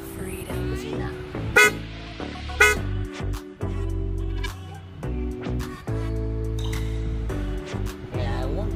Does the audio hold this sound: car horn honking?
yes